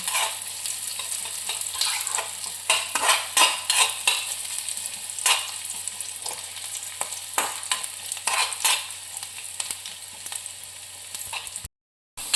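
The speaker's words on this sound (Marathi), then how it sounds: "कांदा चांगला लालसर होईपर्यंत भाजून घेऊया." Chopped onion sizzles and fries in a pan until reddish, with a steady bright hiss and repeated scraping stir strokes throughout, ending in a brief drop to silence.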